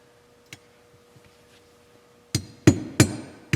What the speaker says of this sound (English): I'm just going to use light taps on the hammer.